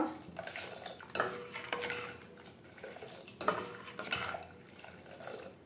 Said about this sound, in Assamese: চেনিটো দিয়াৰ পিছত মই এনেকৈ লৰাই থাকিব লাগিব